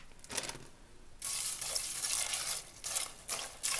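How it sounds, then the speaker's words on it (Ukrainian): Cold water pours and splashes into a pot in a few bursts while preparing to dye Easter eggs, with brief pauses between, fairly close and moderately loud, no talking. "холодну воду висипаю"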